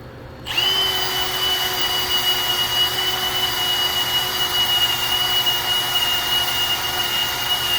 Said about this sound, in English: Let's find my wire wheels right here.